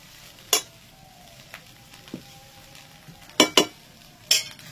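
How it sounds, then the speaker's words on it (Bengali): Chana rice, made with chickpeas and peanuts, is stirred and mixed in a frying pan with a soft steady sizzle, broken by a few sharp scrapes and clinks of a spatula against the pan. "এবার ওপর নিচ করে ভালো করে মিশিয়ে মিশিয়ে বারবার ভাতটার সাথে দিয়ে দিতে হবে"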